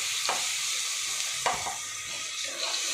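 Ginger garlic paste fries in a pan for mutton biryani, a steady close sizzle broken by a few sharp scrapes of a spatula stirring it, with no voices.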